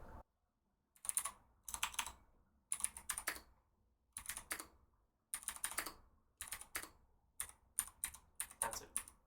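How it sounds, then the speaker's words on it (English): Typing on a Cherry MX Blue mechanical keyboard: close, crisp bursts of clicky keystrokes in quick runs, separated by short pauses, with no talking. "this is the typing test on my CherrY MX Blue keyboard"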